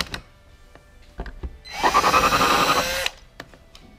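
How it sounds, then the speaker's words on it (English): A power drill whirs up and bores through material for about a second while installing a dive plane on a 2016-2018 Camaro SS, a steady high whine ending abruptly, with a few light taps and clicks around it. "you're just gonna go in and drill two holes"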